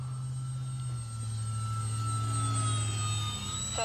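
An X-Fly Twin Otter 1800mm RC foam plane with flaps down passes slowly and close by, its electric motors giving a steady, loud drone with a whine that shifts in pitch as it goes past.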